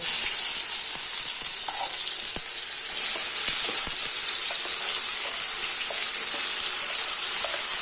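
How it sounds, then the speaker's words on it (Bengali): Cumin seeds, green chili and ginger sizzle in very hot oil in a home kitchen, a bright, loud, continuous frying hiss up close with light crackles and occasional stirring taps, no voices. "তেল পুরো গরম হয়ে গেছে খালি জিরে ফোড়ন দেব এর মধ্যে কিচ্ছু দেব না লঙ্কা আদা দিয়ে দিয়েছি"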